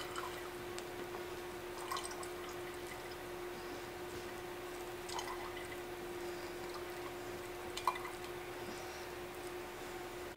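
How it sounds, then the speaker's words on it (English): Elderberry syrup liquid dripping and trickling as it finishes draining from pressed berries, with soft, irregular drips over a steady low hum and no talking. "Now I'm just going to let this sit and finish draining for a little while longer."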